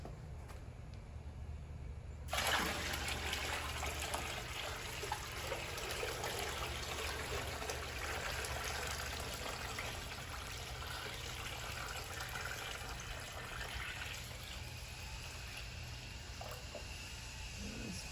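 Coolant trickles and pours into the coolant tank of a Tormach 440 mill, a faint steady liquid flow that starts abruptly after a quiet moment and continues evenly at close range with no voices.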